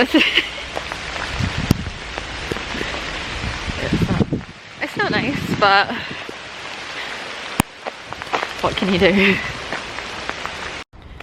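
Steady rain patters on a surface throughout, with a person talking over it for most of the clip.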